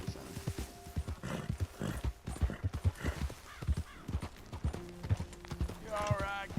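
A horse galloping in Red Dead Redemption 2, rapid rhythmic hoofbeats pounding steadily with a whinny near the end, under game ambience and a player talking.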